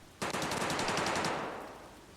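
A BTR armored vehicle in Escape from Tarkov lets loose a sustained machine-gun burst: rapid, loud, evenly spaced shots for about a second, then a fading echoing tail, with no talking.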